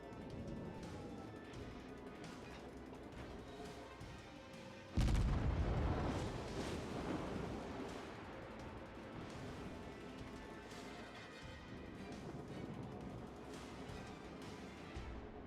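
Guns on the Nicholas, a destroyer in World of Warships, let off one sudden heavy blast around the middle, its broad roar trailing away over steady game background sound.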